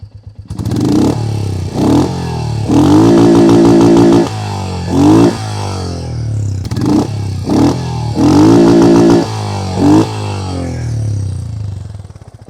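A Royal Enfield Hunter 350 single-cylinder engine with a Delkevic exhaust, header pipe and open-air intake runs close and loud, with repeated throaty revs rising and falling over a steady deep putt-putt idle, and no talking.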